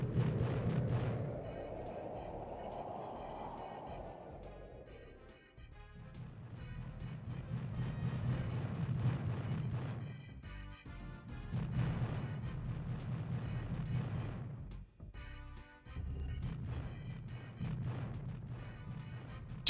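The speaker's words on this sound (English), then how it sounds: "Just when you think the explosion is over, it keeps going." An explosion in the N64 game Space Station Silicon Valley swells with a rising whoosh, then continues as a heavy low rumble broken by repeated booming bursts and brief gaps, over game music.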